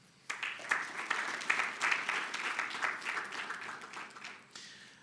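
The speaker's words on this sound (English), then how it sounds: "let's welcome the judges with a round of applause" A debate audience gives the judges a round of applause, clapping that starts suddenly, swells quickly, holds steadily for several seconds and then tapers off.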